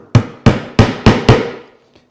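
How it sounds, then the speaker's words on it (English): Five sharp mallet blows drive a chisel into chestnut to square a dovetail hole, struck at a steady rhythm, close and loud, each strike ringing briefly before the last fades to quiet. "now I can come back with a chisel and I'm going to quickly square this hole up"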